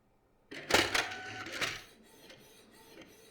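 A Canon PIXMA TS3122 inkjet printer starts up abruptly, its print head shuttling with a few sharp mechanical clacks and whirs before settling into a quieter, steady running buzz.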